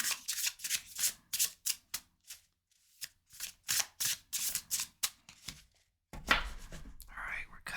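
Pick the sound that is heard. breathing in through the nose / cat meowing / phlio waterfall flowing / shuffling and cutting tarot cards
shuffling and cutting tarot cards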